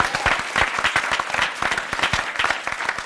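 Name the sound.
audience applause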